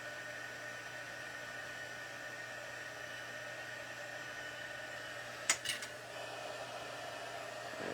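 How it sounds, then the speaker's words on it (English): A craft heat tool runs with a soft, steady whooshing hum throughout, faint and constant, broken briefly by a couple of sharp clicks near the end. "I'm just going to turn my heat tool on again."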